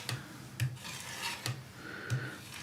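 Paint scraped off an acrylic palette in four rhythmic rasping strokes about half a second apart, each with a brief low thump, close and with no voices.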